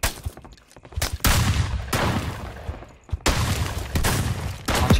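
Rapid gunfire bursts in a battle royale video game, loud repeated volleys of shots in close succession with brief gaps, no voices.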